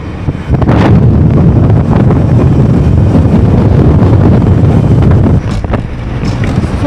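Strong wind roars across the microphone on Jebel Hafeet mountain, a loud, steady buffeting rumble that barely eases for several seconds before dipping near the end.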